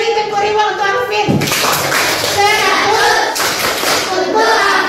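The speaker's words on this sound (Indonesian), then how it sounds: "Beri tepuk reward untuk Alfred." A classroom group claps in applause for a student, a burst of dense clapping that swells and fades in two waves, heard alongside a teacher's voice.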